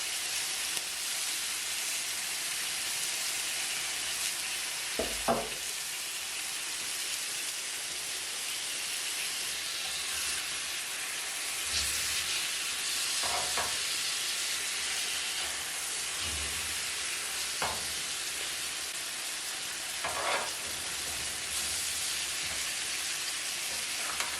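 Food with pesto and lemon slices sizzles on a grill in a steady, hissy crackle, fairly faint and even throughout with a few soft knocks and no speech.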